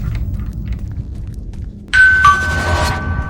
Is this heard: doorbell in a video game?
yes